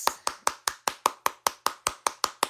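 Thirteen sharp, evenly spaced hand claps in a steady rhythm, close and crisp, with no other sound between them, from a Cleveland Guardians fan celebrating a 3-0 win over Chicago.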